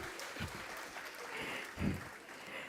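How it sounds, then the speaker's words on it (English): Faint, distant clapping from an audience at Deepalaya's 47th Foundation Day celebration for a young performer, continuous and low in level with a brief louder swell near the end. "A big clap for him."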